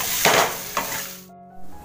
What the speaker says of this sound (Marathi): आता व्यवस्थित जरा अशा परतून घ्यायच्या कमी तेलामध्ये